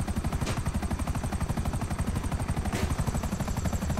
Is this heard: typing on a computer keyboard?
no